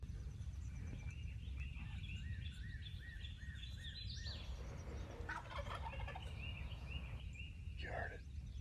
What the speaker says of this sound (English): We're still hearing it gobble, but it's not as close